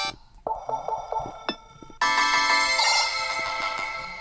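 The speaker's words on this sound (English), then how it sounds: "this will be my Glyph ringtone" A custom electronic Glyph ringtone on a Nothing Phone 2a: a short melodic pattern of plucked tones, then a brighter, sustained chiming tune playing loud and close.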